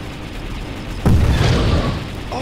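A rocket explosion in the space combat game Outer Rim lands as one sudden deep boom that rolls and fades over a second or two, loud and close against a low steady background.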